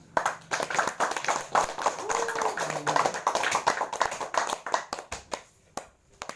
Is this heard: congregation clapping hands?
yes